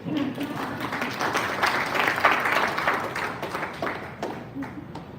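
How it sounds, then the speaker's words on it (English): Audience clapping during a live wellness talk, a scattered patter of hands that swells and then thins out, with a voice faintly mixed underneath. "Please, if you like it, clap for me."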